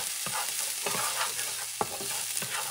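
Minced garlic sizzles steadily in a hot pan while being stirred, with several distinct scraping strokes of a utensil standing out over the continuous frying hiss.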